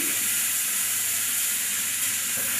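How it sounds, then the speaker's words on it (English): Onions and mustard seeds frying in a pan, a steady bright sizzle and hiss that holds evenly throughout with no voices. "while you're frying your onions, when they're sort of halfway, you're putting your mustard seed."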